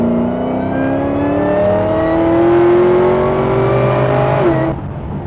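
A pro-touring 1967 Chevrolet Camaro accelerates hard, its engine note climbing steadily and loudly close by for several seconds before easing off near the end.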